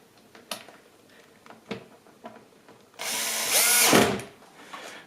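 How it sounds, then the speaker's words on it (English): A power drill drives a nut tight during assembly of an EJWOX composter tumbler, a short whirring burst after some light handling knocks and taps, with no speech. "I'm just putting the nut in and screwing it down, tightening it down, all in one step"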